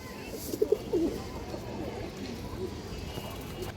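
Racing pigeons that have flown 51 km give a couple of short, close coos near the start, then settle into a soft, steady background murmur.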